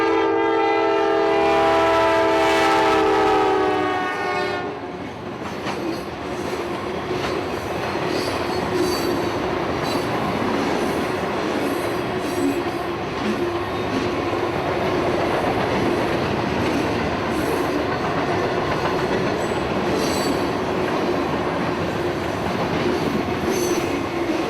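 Freight train Q453 on the Seaboard Main Line in Citra blasts its horn loudly, then the long train rumbles past with steady wheel clatter and occasional squeal, continuing for many seconds.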